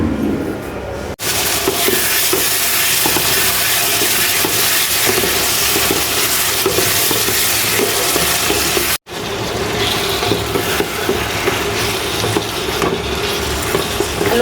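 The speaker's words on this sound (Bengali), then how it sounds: "আলু আর পাও পাকনা একসাথে দিয়ে ভুনতেছি।" Potatoes and meat stir-fried together in a pan for breakfast give a steady, close hiss of frying and stirring that runs continuously, with two very brief drops to near silence.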